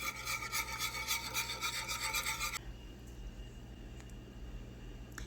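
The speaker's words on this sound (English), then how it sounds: "start whisking this until it is all melted." A whisk works through cheese sauce for mac and cheese in a pot, giving a rhythmic close scraping swish for about two and a half seconds before the stirring quiets to a faint background.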